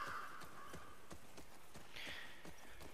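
A horse's hooves clip-clopping at a steady walking rhythm in The Last of Us Part 2, quiet and close, with brief faint background tones.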